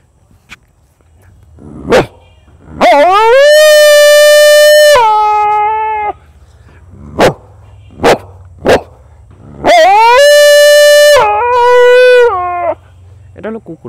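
A voice imitates a dog: a few short sharp barks, then two long wavering howls, sounding loud and close.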